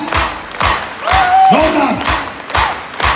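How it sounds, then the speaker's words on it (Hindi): Audience at a Safe Shop leadership event applauding and cheering loudly, with rhythmic clapping beats and shouted cheers and whistles from a close, dense crowd. "खड़े होके जोरदार ताली बजाइए।"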